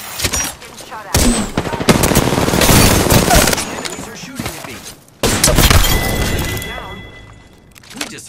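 Heavy automatic gunfire in the Apex Legends video game, repeated loud bursts of shots with glassy impacts, broken by brief pauses, with a voice talking over the fighting.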